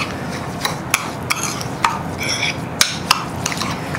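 Beef marinade paste for Vietnamese beef wrapped in betel leaves being mixed by hand in a bowl, a steady wet squishing and rubbing with small clicks and scrapes, close and fairly quiet, no talking.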